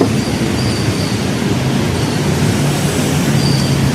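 An LRT light rail train rumbles past close by, a loud, steady roar of wheels on track with faint squealing tones above it, and no voices.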